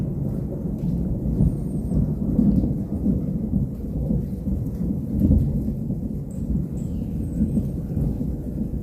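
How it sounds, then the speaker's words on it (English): Thunder rumbling low and rolling through a steady rain, with deep swells of noise rising and fading over the soft, constant patter of falling drops, no voices. "That's thunder."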